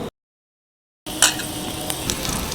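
Panch phoron spices hit hot oil and sizzle, a sharp crackling burst that settles into a steady hiss after a brief silent gap at the start.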